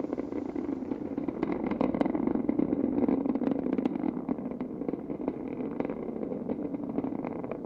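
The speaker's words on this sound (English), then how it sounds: "Discovery's engines are throttling down as the orbiter passes through the area of maximum pressure on the vehicle." Space Shuttle Discovery's main engines roar during the STS-119 launch, a steady broadband rumble with crackling texture that holds at a constant loudness throughout, heard from a distance with no voices.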